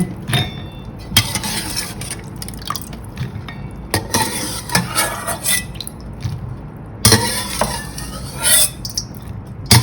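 Raw peanuts being rinsed and stirred by hand in a bowl of water to wash off dust and debris: close, wet sloshing and swirling with intermittent clinks and splashes, no talking.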